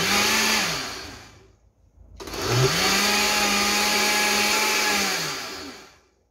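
An electric mixer beating corn cake batter made with flocão, whirring loudly for a short burst, pausing briefly, then running again steadily for several seconds before cutting off.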